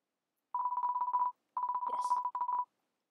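Landline telephone in the DeltaRune video game, heard as a rapid run of steady mid-pitched dial tones in two bursts, with a short pause between them.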